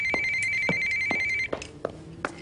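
A telephone rings with a repeated electronic trill, fairly faint, heard over a few short pulses before it stops.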